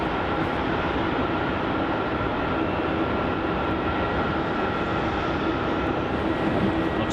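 Jetstar Boeing 787 Dreamliner airliner at Melbourne Airport, a steady, broad jet engine roar held for several seconds at fairly even loudness, heard from some distance.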